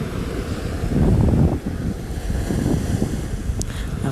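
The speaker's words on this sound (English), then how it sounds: "And it's a bit windy." Gusty wind at a beach buffets the microphone in a steady rumbling roar, with faint surf-like wash underneath and no talking.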